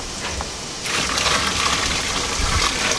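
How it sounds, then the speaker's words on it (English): Water pours into a brewing mash and starts under a second in, a steady close gush and splash that carries on evenly to the end. "now go ahead and pour the rest of the water in"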